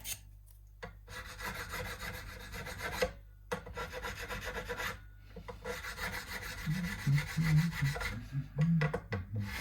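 Steady rasping strokes of sanding the frets on a Squier Stratocaster guitar, close and fairly quiet, repeating in bursts with brief pauses between.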